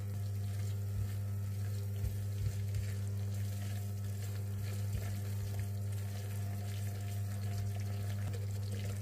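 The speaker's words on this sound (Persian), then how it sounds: "اینم 2-3 دقیقه تفتش میدم" Oil sizzles steadily in a pan as chickpea flour is stirred and toasted, with faint scraping and clinks over a low constant hum.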